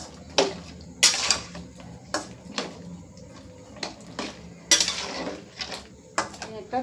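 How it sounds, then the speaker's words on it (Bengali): Metal plate set over a pot of mango pieces simmering with turmeric, chili and salt, a series of sharp clinks and clatters at irregular intervals, close and fairly loud, no talk. "একটা থালা ঢাকা দিয়ে দিলাম বন্ধুরা।"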